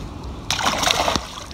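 A bass released back into the water during the Arkansas spawn makes one short, close splash and slosh that ends abruptly after quiet surroundings.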